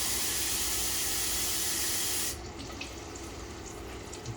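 Water is poured from a cup into a cooking pot, giving a steady splashing hiss for about two seconds before it stops, leaving a quiet room.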